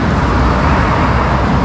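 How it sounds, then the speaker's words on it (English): Cars going by on a busy road near Revere Beach, a loud, continuous wash of traffic noise with steady engine and tire roar throughout and no talking. "but you can probably hear all the cars going by."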